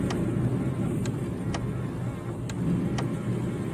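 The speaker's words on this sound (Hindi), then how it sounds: "यादगार एम्बेसडर कार" An Ambassador car drives along with a steady low engine and road rumble, rain-cooled air and traffic wash around it, and a few faint sharp clicks cut through the even drone.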